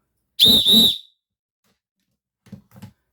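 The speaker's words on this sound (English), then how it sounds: "Fox 40 whistle" A loud, shrill Fox 40 whistle blast, sounded twice in quick succession, followed by a couple of soft faint knocks.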